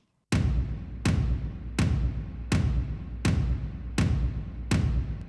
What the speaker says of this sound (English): here's the sample called Big Dark Toms stereo sample, and I think I added some verb on there too